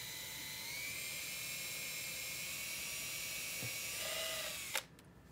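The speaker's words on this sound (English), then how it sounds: "So, plan B, drilling holes." Power drill boring holes in a scuba scooter prototype housing, a steady high-pitched motor whine running continuously for several seconds before cutting off abruptly, close and fairly loud with no talking.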